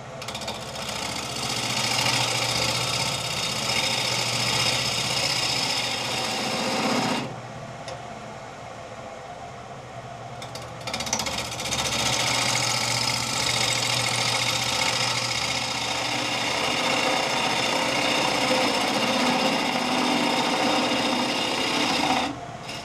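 Steady abrasive rasping of a woodturning tool being sharpened on a grinder, a continuous loud whirring grind that stops briefly midway and then resumes for a long stretch.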